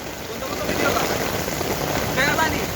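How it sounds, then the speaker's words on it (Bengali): Steady rain falls on a city street in Dubai as a dense, even hiss on the surfaces all around, with no breaks and no talking. "এখন একটু ডেলি বৃষ্টি হচ্ছে"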